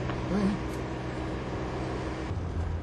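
Onboard a BMW 633 CSi, a low, steady engine and exhaust drone fills the cabin with a resonant rumble that shifts in pitch near the end.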